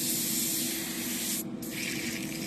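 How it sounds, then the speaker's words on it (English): An airbrush sprays reducer and airbrush cleaner in a loud, continuous hiss of air and fluid, briefly interrupted once before resuming. "running some reducer and airbrush cleaner through them. See if we can get them spraying nice and clear."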